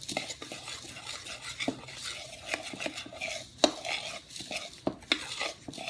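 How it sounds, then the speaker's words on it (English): Dry Rice Krispies, oats and Shakeology powder stirred together in a bowl, giving a steady scraping, rustling swish with sharp clinks of the utensil against the bowl, close and alone. "I like mixing it first, mixing it all together, just the dry stuff"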